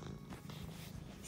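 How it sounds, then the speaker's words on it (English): A domestic cat purring steadily and close by, a continuous low rumble with no talk over it. "So my cat wants to say hello."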